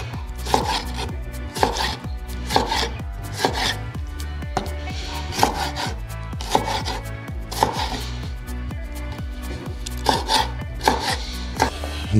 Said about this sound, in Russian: Теперь нарежем все оставшееся.